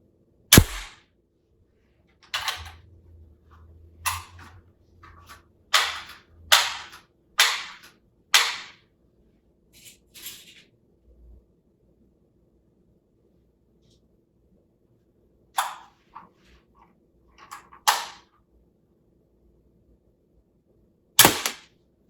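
A Ruger NGX pistol fires at a shooting range, with sharp, loud single shots spaced irregularly, some in quick runs of several and others after long pauses, each cracking out over a quiet background.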